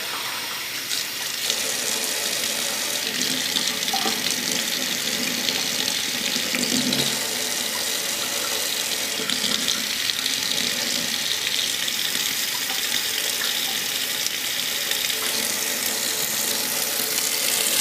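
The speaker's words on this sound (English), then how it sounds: "Give it a good rinse. Don't let the water pound it too hard." Tap water runs steadily into a sink, rinsing a Stardust CE5 clearomizer stem under cold water, a continuous close hiss and splash with no talk.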